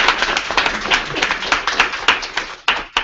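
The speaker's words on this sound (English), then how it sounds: "give them a round of applause" Close, loud applause for a panel from a modest crowd at an info session, brisk overlapping claps with a few sharp individual hand strikes standing out near the end.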